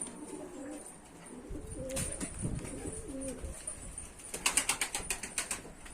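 A young Turkish tumbler pigeon gives soft, low cooing calls, faint and close. A burst of rapid wing flapping follows near the end.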